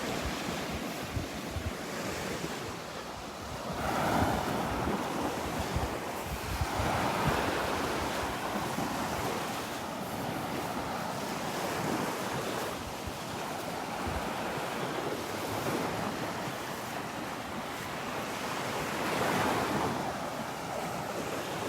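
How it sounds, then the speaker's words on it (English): Small waves from the Gulf wash gently onto Vanderbilt Beach in a steady, soft rolling surf, and wind buffets the microphone throughout. "the Gulf is starting to quiet down. A few little waves"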